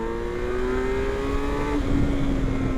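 A Kawasaki Versys LT 1000 motorcycle accelerating under a rider, its engine a steady rising drone with a gear change near the two-second mark, then pulling on with wind noise close by.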